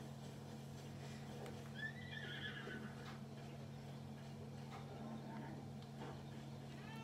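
A horse in a Zelda video game whinnies once with a rising, wavering call over a low constant background hum, followed by faint scattered hoof thuds; fairly quiet overall.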